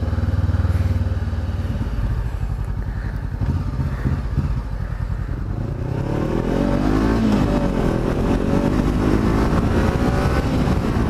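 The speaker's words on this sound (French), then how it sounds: "j'essaie de vous faire écouter un peu le bruit là quand on accélère" A Honda CBR500R motorcycle engine accelerating, a loud, steady close-up roar that rises and swells in pitch across the run with no talking.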